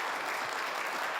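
Members of a New Jersey church council applaud in a meeting hall, a steady wash of clapping from a crowd, moderately loud and unbroken throughout.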